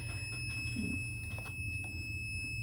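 A high electronic alarm tone from a children's electronic playground kit project holds steady and unbroken throughout, over a low background hum.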